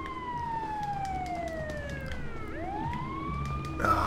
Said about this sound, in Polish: A nie, to nasz dwóch strażacki tak ten sygnały daje.